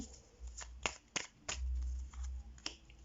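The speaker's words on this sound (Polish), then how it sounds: "Te odkładam, bo chciałabym wylosować karty." Playing cards are drawn from a deck, several soft close snaps and slides in a quiet room, irregularly spaced and alone.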